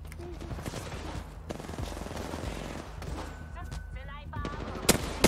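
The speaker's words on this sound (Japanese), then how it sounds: "音がバグってめちゃくちゃくなった" Dense, chaotic bursts of gunfire in Apex Legends, glitched audio overlapping into a harsh, stuttering wall of noise, with a few louder cracks near the end.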